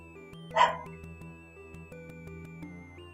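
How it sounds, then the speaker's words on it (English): A corgi gives one brief, faint bark in the background, set against steady electronic game music. "that is my corgi barking in the background"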